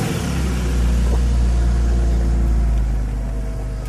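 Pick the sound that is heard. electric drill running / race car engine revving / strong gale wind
race car engine revving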